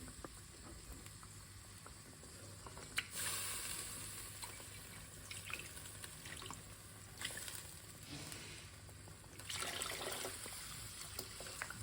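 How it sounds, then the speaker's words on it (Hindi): Water trickles and splashes steadily into a pot of cooking lentils for several seconds, with a few louder pouring surges and faint kitchen clatter, no talking. "तकरीबन 2 गिलास के करीब मैंने इसमें पानी डाला है कि ये अच्छे से पक जाए।"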